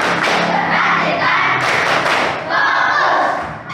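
Schoolchildren in a classroom clap out the short patterned "tepuk fokus" routine, a burst of rhythmic group claps and thumps with some voices chanting along, loud and close.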